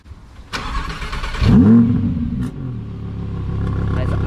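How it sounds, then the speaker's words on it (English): A 2020 Audi R8 with a 5.2 litre V10 cranks and fires into a sharp, loud startup rev. It settles into a deep, steady idle, heard close up. "now we're gonna start the car up just to hear what a brute of the car this is"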